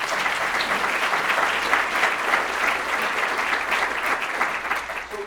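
A room of guests at a strategy-plan kickoff luncheon claps in sustained, even applause, close and fairly loud, holding steady before tapering slightly at the end.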